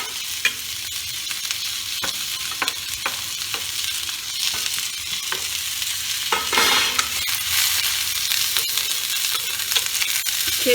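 Black cumin seeds and two chillies sizzle in hot oil as a tempering, a steady bright crackle with frequent spoon-stirring clicks, close and continuous for the whole stretch.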